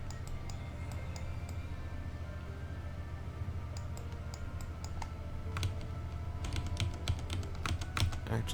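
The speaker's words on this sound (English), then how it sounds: "This is a mechanical keyboard. It is a Quickfire TK." Steady typing on a Quickfire TK mechanical keyboard, a dense stream of crisp key clicks that grows busier toward the end, heard up close over a low background hum, with no talk.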